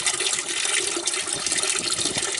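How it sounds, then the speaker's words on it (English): Antifreeze draining from a 1997 Detroit Series 60 diesel engine into buckets, a continuous close splashing pour of liquid with no pauses. "It helps the antifreeze come out a little quicker."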